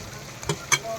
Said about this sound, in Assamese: বিলাহী দি পেলাই এতিয়া মাংসটো হিলাই আছোঁ ধুনীয়াকৈ